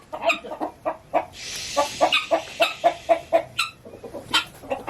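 A mother hen clucking in a garden, a close run of rhythmic, evenly paced clucks repeating steadily over several seconds, with a few higher squawks mixed in and no talking.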